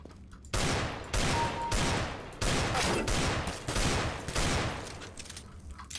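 Rapid rifle fire in a Counter-Strike: Global Offensive deathmatch, repeated bursts of dense automatic shots over about six seconds, loud and continuous with only brief pauses.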